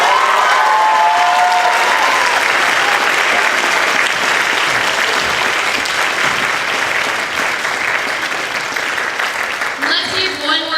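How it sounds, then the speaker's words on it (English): A school audience gives sustained, loud applause for graduating senior orchestra members of the class of 2019, with dense clapping and crowd noise filling the hall throughout before it begins to thin near the end. "Let's give one more huge round of applause for our class of 2019."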